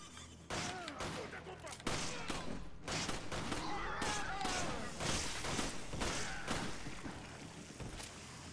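Gunfire and explosions from the Resident Evil video game, with a shot Molotov bursting, sound as a dense run of sharp cracks and booms. Excited talking runs over the whole stretch.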